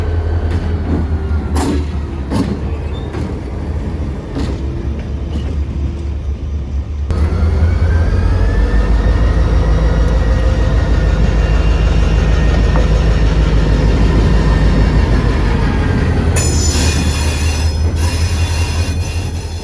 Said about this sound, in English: FEC GP40-2 number 435 has to pull into the industry to grab the empties